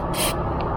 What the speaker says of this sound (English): squirt like that, and that's all you really need to do to keep that lubricated